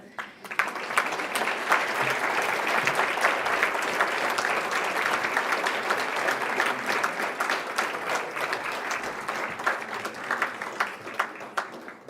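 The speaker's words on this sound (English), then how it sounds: "I think we're just going to take a moment and applause these" A scholarship gala audience gives sustained applause for the recipients, dense clapping holding steady for about twelve seconds with faint crowd murmur underneath.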